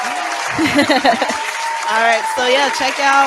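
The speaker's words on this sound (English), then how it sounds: "I'm gonna clap for us." A small audience claps steadily at the end of a show, a continuous wash of applause running under a voice talking over it close to the mic.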